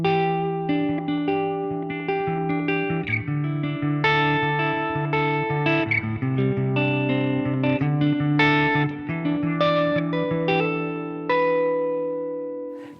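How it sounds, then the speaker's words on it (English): Electric guitar played through a pedal's hall reverb setting, thick and atmospheric, with chords and single notes blooming into long sustained tails that wash continuously without a break for the whole passage. "It's a much thicker and full, like really atmospheric sounding reverb,"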